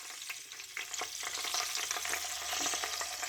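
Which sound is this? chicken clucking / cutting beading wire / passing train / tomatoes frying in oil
tomatoes frying in oil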